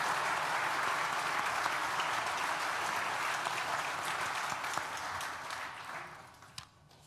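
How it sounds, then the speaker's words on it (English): Sustained applause from a graduation ceremony audience for architecture, design and built environment graduates, a broad, steady clapping that holds at full strength before tapering away in the last second or two. "Please join me in thanking them with a well-deserved round of applause."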